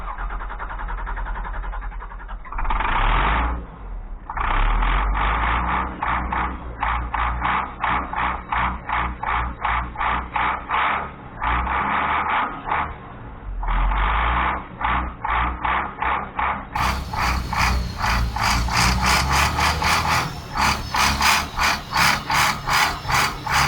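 Bus engine cranking on ignition with ether sprayed in, a loud starter churning in rapid repeated pulses, pausing briefly, then cranking on and rising in intensity toward the end.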